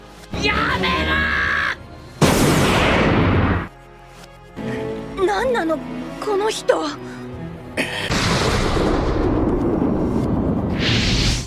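Loud, booming cannon blasts and bursts of noise in an anime, with shouting voices and dramatic effects between them.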